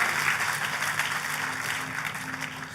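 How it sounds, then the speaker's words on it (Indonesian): Enthusiastic applause from a church congregation at a worship service: dense, steady clapping throughout, with a faint low sustained tone beneath it. "Ayo tepuk tangannya lebih meriah lagi buat Tuhan kita"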